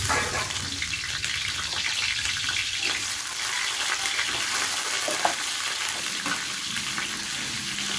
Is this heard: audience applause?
no